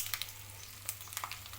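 Onions frying in an oil tempering for gongura chutney: a quiet, steady sizzle with scattered crackles and pops, close and soft, no talking.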